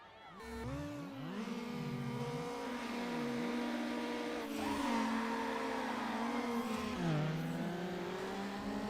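Dodge Viper engine in Need for Speed Underground, loud and continuous, revving up and down through repeated gear changes with sweeping pitch rises and drops, racing along from start to finish.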